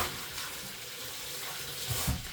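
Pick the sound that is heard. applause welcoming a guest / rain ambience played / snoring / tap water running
tap water running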